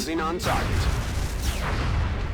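Laser cannons fire in the strategy video game XCOM: Long War, a heavy, booming blast that rolls into a dense, rumbling roar filling the whole moment.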